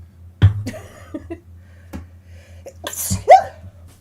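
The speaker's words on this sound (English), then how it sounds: "sorry, I have to sneeze" One sharp sneeze near the start, then soft breaths and a second, louder sneeze burst close to the microphone.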